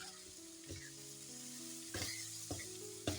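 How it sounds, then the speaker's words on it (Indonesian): Tomatoes sizzle steadily in a stir-fry with bean sprouts and cabbage, with a few sharper scrapes and clatters of stirring over the continuous frying hiss. "kalau udah kayak gini baru tomatnya masuk"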